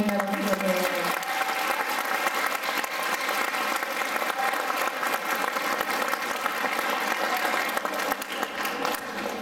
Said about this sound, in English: Let's have one more round of applause for this amazing morning of the band.